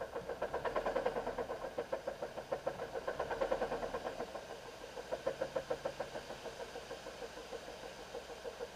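A 2007 Saturn Ion engine, smoking under throttle, runs close by with a pulsing, rhythmic mid-toned rumble that swells and eases as gas is given, faint and without talk.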